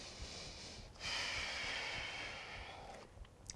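A single slow, deep breath taken during a yoga practice: a soft, airy rush that swells for about two seconds and then fades, close and alone with no talking.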